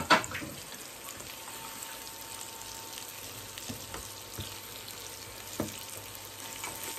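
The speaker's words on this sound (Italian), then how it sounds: "andiamo a mettere giù il nostro filetto e tutti i suoi granelli di pepe. E lasciamo rosolare da tutte e due le parti" Pork fillet with green peppercorns browning in a hot pan, a steady close sizzle after an initial burst as the meat goes in, with occasional small pops and light clinks.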